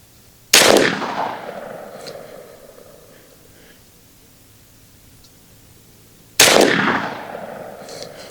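Two sharp, loud shots from an S45 big bore air pistol fired on Tiny Tanks air supply, spaced about six seconds apart, each a hard crack with a fading tail and quiet between them.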